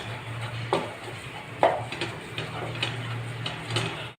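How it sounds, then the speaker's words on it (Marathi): Gram flour roasting in a pan while being stirred, with sparse scraping and clicking strokes of a spoon against metal over a low steady hum, each tap short and fairly close. "आणि चांगलं खरपूस भाजून घ्यायचं आहे त्याला पहा, चण्याच्या पिठाला।"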